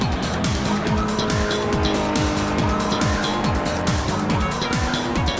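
Mazda Miata race cars at speed on a circuit, engines rising and dropping in rapid repeated gear-change sweeps, with tire squeal and a loud, close, continuous racing roar.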